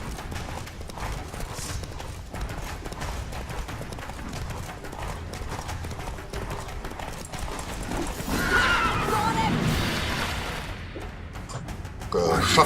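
The horse Roach gallops in The Witcher, steady clip-clop hoofbeats with a whinny over busy game ambience and music, growing louder and denser toward the end.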